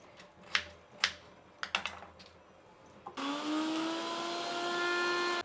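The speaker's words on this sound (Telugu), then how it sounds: "దీన్ని కడిగేసి మనం మిక్సీ పట్టేద్దాము" A mixer grinder starts up and runs steadily, grinding washed ginger and garlic into paste after a few light clicks and taps of prep; the motor whine holds loud and close with no talk.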